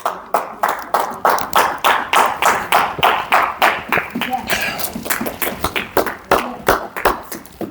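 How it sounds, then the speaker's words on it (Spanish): A church congregation claps together in a steady, even rhythm, many hands striking close and loud over several seconds, with a voice speaking over the clapping. "Dele un aplauso al Señor"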